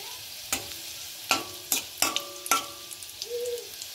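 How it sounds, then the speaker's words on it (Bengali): Cumin seeds and dried red chillies hit hot oil in a kadai for tempering, giving a few sharp, separate crackles and spits about half a second apart, close by and fairly quiet, with no voices. "এতে আমি দিয়ে দেবো জিরে আর শুকনো লঙ্কা ফোড়ন"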